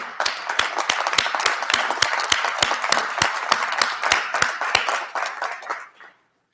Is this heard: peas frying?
no